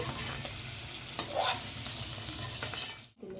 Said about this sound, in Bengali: এরপরে আমি ওই একই তেলে টমেটোগুলো দিয়ে দিচ্ছি